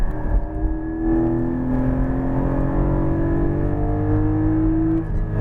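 A Porsche 718 Cayman GT4 accelerating out of a corner on a race track, its engine a loud, close, sustained drone that climbs slowly in pitch.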